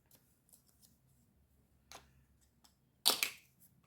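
Paper is torn by hand for a collage, with one short, crisp rip standing out from a near-silent room after a few faint rustles and small ticks.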